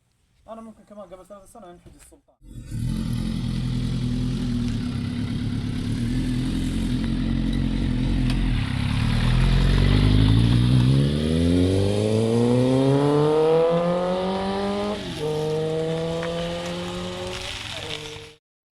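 A motorcycle engine runs close by after a brief quiet start, its pitch climbing and dipping through revs for about fifteen seconds, while voices talk over it.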